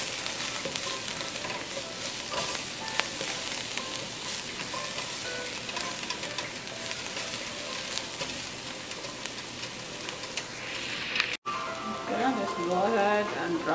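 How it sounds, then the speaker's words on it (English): Garlic browning in a hot pan for braised smoked pork hock gives a steady, loud, close sizzle that runs continuously, broken by a brief cut near the end before the frying resumes. "Go ahead and drop the garlic and let it brown."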